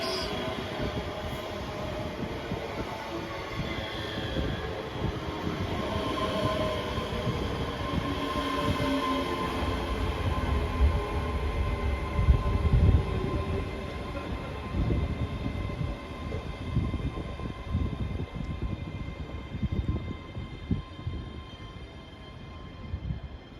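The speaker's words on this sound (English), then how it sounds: "Departing out now is the 1522 ScotRail service from Dunblane to Edinburgh Waverley." A ScotRail Class 385 electric multiple unit pulls out of Edinburgh Haymarket station, its rumble and rail noise building steadily and holding close and loud for over twenty seconds before easing off.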